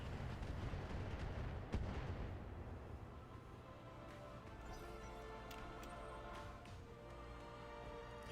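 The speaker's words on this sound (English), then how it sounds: "Oh, there's another thumper turret." A thumper turret fires in a video game, giving a heavy booming blast followed by rumbling echoes and scattered smaller impacts, distant-sounding and fairly faint.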